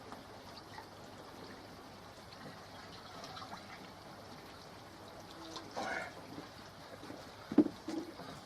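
Water is poured into a small pot of Mediclay clay mix, a faint, quiet trickle that comes in brief spurts near the end.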